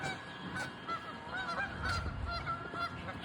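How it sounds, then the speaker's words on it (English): A flock of geese honks in a park at Mooney Grove, with repeated overlapping calls at moderate distance over steady outdoor background noise. "the geese are particularly vocal today"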